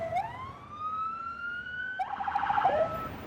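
Police car sirens wail near a protest on a highway, a rising tone sweeping up then switching to a rapid warbling yelp, loud and close with traffic noise beneath.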